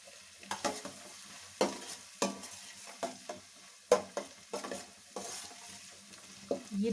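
Chopped onion added to garlic frying in a pan for street-style fried rice, a soft continuous sizzle broken by irregular scraping stirs of a utensil against the pan, no talk.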